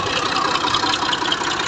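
A Massey 240 tractor engine drives a water pump draining rainwater from farmland in Punjab, Pakistan, with a steady mid-pitched idling drone holding evenly throughout.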